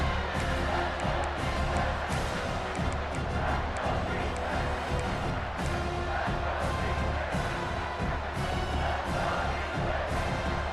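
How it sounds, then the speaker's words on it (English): A large video-game American college football stadium crowd roars continuously near the goal line, a dense wall of cheering and noise with a commentator's voice talking over it. "The crowd really making some noise now, trying to help out this defense to get this stop near the goal line."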